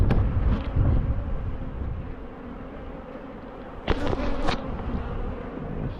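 Honey bees buzz steadily at an open hive during a demaree split, a dense, close drone that holds throughout, with brief scrapes and light wind rumble but no speech.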